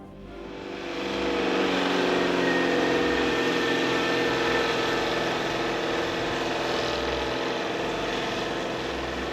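A vintage MG car engine running on a track, a steady, loud, close drone that swells within the first two seconds and then holds its roar.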